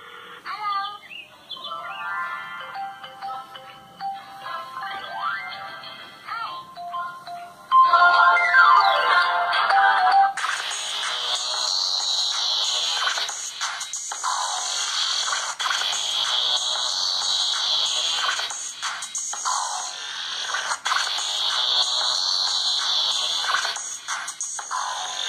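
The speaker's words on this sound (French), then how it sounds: "on va aller prendre une sonnerie du téléphone au hasard" A Cubot X15 smartphone plays a randomly chosen ringtone, starting as a softer melodic pattern, then after a jump in level a loud, bright repeating chirpy tone with a regular rhythm, steady and close, with no talking.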